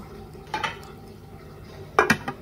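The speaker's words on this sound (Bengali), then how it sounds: "ঢাকনা দিয়ে ঢেকে দিলাম।" A lid set down on a pot of radish and lentils simmering together, two clattering metal contacts about a second and a half apart, close and fairly soft against a quiet kitchen background.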